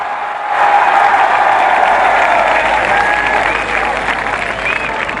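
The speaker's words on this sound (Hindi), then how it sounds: "जरा मुजफ्फराबाद हाथ उठाकर तालियों की गूंज में बताइए इमरान खान से आप कितना प्यार करते हैं।" A huge crowd at a PTI political rally in Muzaffarabad for Imran Khan breaks into loud, sustained applause, a dense roar of clapping with faint cheers mixed in, holding steady throughout.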